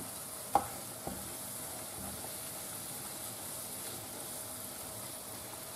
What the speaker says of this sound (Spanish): echaré tanta harina como el aceite admita